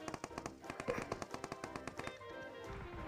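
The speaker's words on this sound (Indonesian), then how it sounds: "Kita belum dapat senjata, ini ada yang nembak." Rapid automatic gunfire in a shooting video game, a steady run of quick evenly spaced shots for about two seconds before it thins out. The burst is fairly quiet and heard alone.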